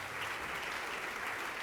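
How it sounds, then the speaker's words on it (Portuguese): A church congregation claps together in a dense, steady wash of applause that carries on evenly throughout, heard from a little distance. "Vamos aplaudir ao nome de Jesus."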